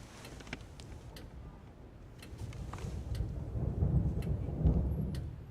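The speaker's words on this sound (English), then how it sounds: "Here's a storm." A thunderstorm rumbles low and steadily, with the deep roll building toward the end and scattered faint crackles on top, and no voices.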